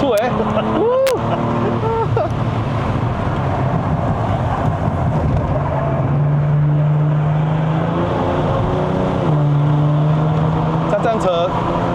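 A Kia Stinger GT 3.3T V6 RWD climbing the Genting mountain road in Malaysia, its engine droning steadily with rising and falling revs and shifting tones, heard from inside the cabin under wind noise while people talk.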